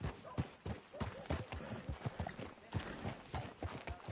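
Horse hooves clip-clop on ground in Red Dead Redemption 2 on PS4, a quiet, steady stream of rhythmic hoofbeats amid low ambient game noise.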